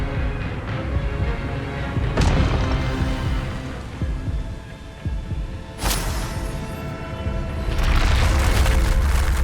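A spell effect in Hogwarts Legacy, heard as deep booming, throbbing whooshes with sharp magical bursts near 2 and 6 seconds and a swelling shimmer at the end, loud and close over a low rumbling game score.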